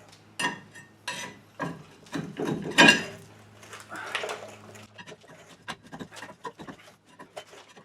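A crowbar prying at a stuck brake rotor on a 2004 GMC Sierra 1500 pickup: a run of sharp metallic clanks, scrapes and knocks, loud at first, then quicker lighter taps toward the end.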